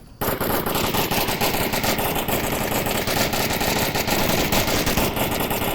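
Sustained rapid gunfire from a competitive Onward VR match fills the scene, with dense overlapping bursts pushing through corners, loud and continuous from start to end.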